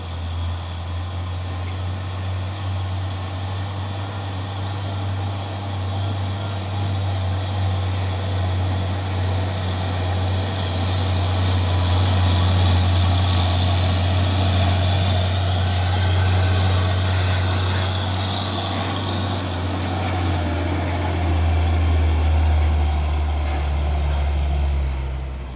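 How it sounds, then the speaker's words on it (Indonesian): A Hino 500 trailer truck hauling an isotank sits running with a steady low engine drone, a broad rumble holding level throughout with a slight rise toward the middle, no voices over it. "ini juga ada satu nih truk trailer Hino 500 membawa Isoteng"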